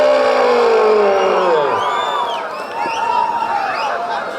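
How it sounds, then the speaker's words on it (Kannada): Crowd cheering and whooping at a state senior kabaddi championship final, loud and sustained, with swelling shouts and whistles over a noisy arena background. "ಬರ್ಲಿ ಒಂದ್ ಜೋರ ಚಪ್ಪಾಳೆ."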